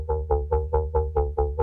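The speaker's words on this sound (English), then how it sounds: "we are gonna add a tube distortion to the bass. It's gonna sound like this." A Serum synth bass run through tube distortion at moderate drive and mix pulses in eight evenly spaced, gritty, harmonically rich notes, each swelling and fading in a steady rhythm.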